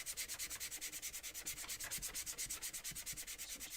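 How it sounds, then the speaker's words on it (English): Light-grit sandpaper rubs over a small wooden basket kit piece before painting, quick rhythmic back-and-forth strokes, about eight per second, steady, close and even, with no talking. "I'm going to go over this with some sandpaper, a light grit sandpaper"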